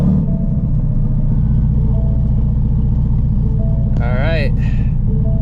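A Ford Shelby GT350 V8 idles with a deep, loud, steady rumble close by, while someone talks over it and a brief higher whine rises near the end.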